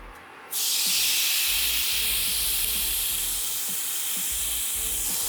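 Beef hits a very hot pan for Thai crying tiger and bursts into a loud, steady sizzling hiss that holds nearly unchanged after the sudden start, close up and without voices.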